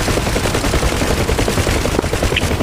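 Helicopter-mounted M60 machine guns firing in DCS World: loud, continuous rapid bursts of gunfire with a dense, rattling rhythm throughout, heard alone without voices.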